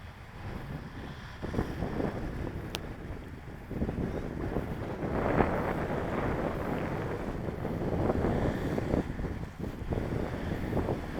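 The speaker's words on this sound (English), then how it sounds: "A bit of weird gusts out here." Gusty wind buffets the microphone at an RC flying field during a review flight of an E-flite 2.1 m Carbon-Z Cub SS giant-scale plane, a loud continuous rumble that surges and eases throughout with no talking.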